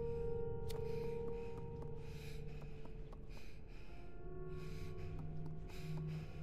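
A creature in a horror video game breathing heavily, rasping gasps and snorting breaths repeating over a low droning ambient background, close and moderately loud, with no talking.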